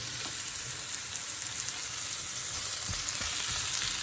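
Food frying in a pan on a home stove, cooking toward golden brown, a steady close sizzle and crackle that carries on without a break, with a few soft stirring knocks and no talk.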